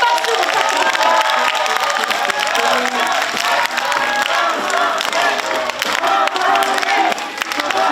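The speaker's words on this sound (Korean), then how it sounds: "여러분 큰 박수 부탁드립니다." A large crowd at a Korean political party rally claps and cheers loudly and continuously, with shouts mixed into the sustained applause.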